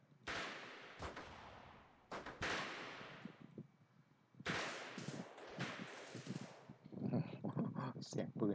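Gunfire in the guerrilla warfare video game Freeman: Guerrilla Warfare, with several sharp loud shots and bursts spread across the clip, mixed with game sounds and some voices.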